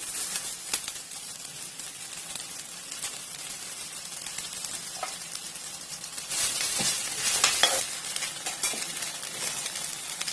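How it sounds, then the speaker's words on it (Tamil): Curry leaves roasting in a lightly oiled pan for sambar powder, a steady close sizzle with occasional stirring scrapes, growing louder midway, with no speech. "இப்போ கருவேப்பிலை வறுத்துக்கலாம்"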